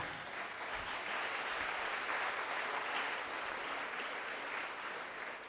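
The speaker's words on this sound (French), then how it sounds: "Est-ce que vous l'applaudissez" Steady church audience applause at an evangelistic service, a dense wash of clapping that holds at an even level throughout with no voices over it.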